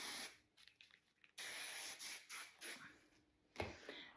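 Wig wax spray misted onto a styled wig in several short hissing bursts, close and fairly quiet, with brief pauses between sprays.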